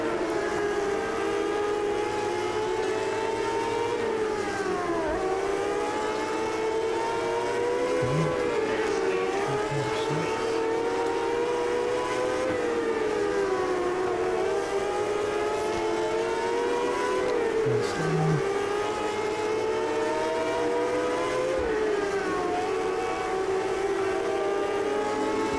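Race cars lapping a track in the World of Outlaws 24 racing game: several engines whine continuously, with pitches sweeping up and down through shifts and corners. The sound is loud and steady, with no voices.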